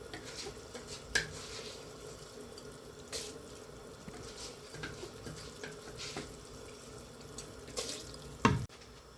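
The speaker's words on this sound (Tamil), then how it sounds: "ஊற வச்ச அரிசியும் பருப்பையும் வந்து இதில் வந்து போட்டுக்குவோம்." Soaked rice and lentils are poured into a pot of boiling water, giving a soft running, watery wash with scattered drips and small knocks, faint and close.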